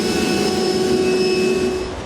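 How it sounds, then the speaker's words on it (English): A vacuum cleaner sucking up metal shavings after drilling during a truck hitch install, a loud steady whining roar with a constant tonal hum, close and alone. "Now we'll go ahead and vacuum up all of our metal shavings."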